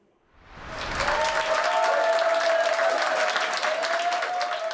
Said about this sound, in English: Applause for this Prime Minister rare these days